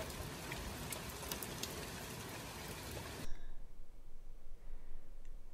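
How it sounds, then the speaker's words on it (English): Steady rain falls outside during a British summer, a dense even hiss that carries on for a few seconds, then drops suddenly to a quieter, muffled patter. "so it's obviously raining"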